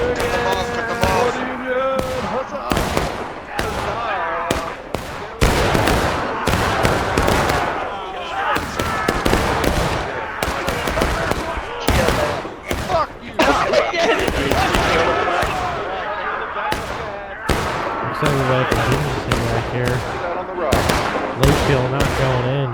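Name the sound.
gunfire in the video game War of Rights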